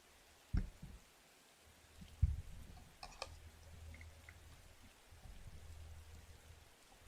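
Soft rain plays as a steady background static hiss, faint and even, with a couple of brief louder knocks near the start and otherwise no other sounds.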